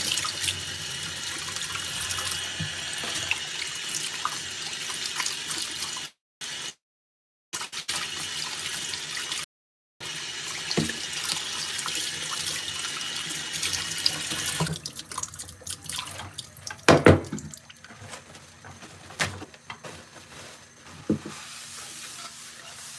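Cold water runs from a kitchen tap in a home, a steady close hiss with two brief cuts, then quieter splashing and clinks as the flow is used, with no talking.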